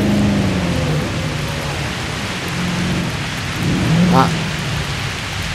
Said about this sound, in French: Il va pleuvoir.